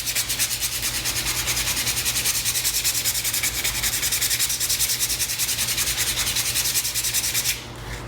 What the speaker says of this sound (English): And what I do now is take, hand sandpaper. Now this is fairly aggressive. This is 100 grit.